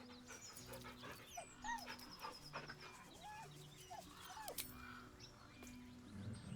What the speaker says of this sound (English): He whines, but remains rooted by the corpse's side.